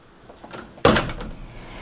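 A door at a modern mansion in Whistler swings open with a sudden close clunk, followed by a brief rustle of movement as someone steps outside.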